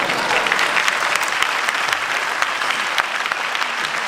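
Sustained audience applause at a leadership and motivational seminar, dense steady clapping from a seated crowd that fills the whole stretch without pause.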